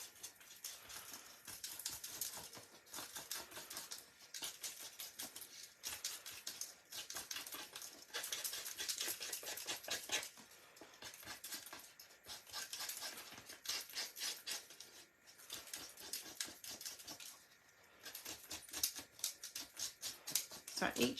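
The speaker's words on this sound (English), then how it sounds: "So each edge I'm just going to rough up" Scissor blades scrape along the edges of a paper card, roughing them up in quick, quiet, repeated scratchy strokes that continue steadily with short pauses and no talking.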